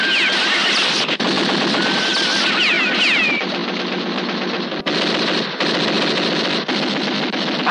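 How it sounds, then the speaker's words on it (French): Loud, dense gunfire fills a 1960s French western film scene, sustained rapid bursts like machine-gun fire blending into a continuous roar with a few brief dips and no speech. "Tire, Klein"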